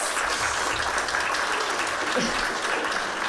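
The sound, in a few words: applause from an audience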